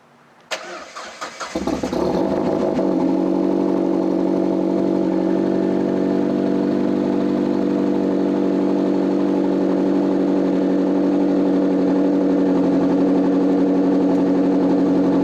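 A car engine cranks and catches, then settles into a steady, loud idle that runs on alone with no talk, the smooth hum holding constant throughout.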